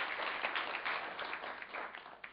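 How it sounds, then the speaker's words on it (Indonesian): Congregation applause at a church sermon, a steady wash of many hands clapping at moderate distance, continuous for a couple of seconds with no talk over it. "Beri tepuk tangan buat Tuhan Yesus, saudara."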